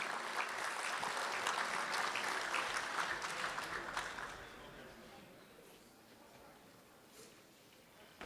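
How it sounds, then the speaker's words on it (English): A room of people gives a round of applause for Tim Strange at an NSRA event, the clapping dense and fairly distant for about four seconds before fading into quiet room noise. "Give him a round of applause if you would"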